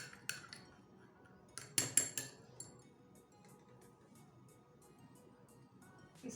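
A homemade beauty face mask is stirred in a bowl, with faint, scattered clinks and scrapes of a utensil against the dish between quiet pauses.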